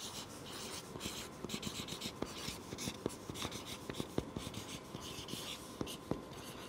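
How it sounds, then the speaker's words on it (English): Pen or marker writing out words in capital letters, a steady scratching with sharp strokes and taps running throughout, close and fairly quiet, with no voices. "I'm gonna write these in capital letters."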